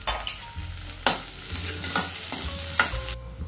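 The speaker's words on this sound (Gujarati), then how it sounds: "તેને ધીમા ગેસે સારી રીતે સાતળી લેશું." Spice masala with boiled peas sautéed on a low flame: a spoon scrapes and stirs the pan in irregular strokes, with sharp clinks against the metal over a soft sizzle, and no talking.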